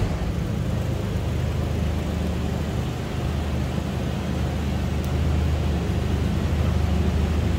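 A 1985 Oldsmobile Cutlass Supreme Brougham engine idles steadily with a deep, low rumble and a broad exhaust roar, recorded close at the rear exhaust, continuous with no voices.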